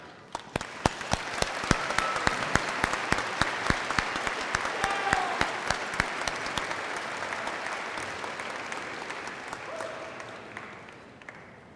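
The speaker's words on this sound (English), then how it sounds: "Please join me in offering them a heartfelt round of applause" A college commencement crowd breaks into applause, sharp individual claps standing out over a broad, sustained roar of many hands that swells early, holds, then slowly tapers; faint voices sit beneath it.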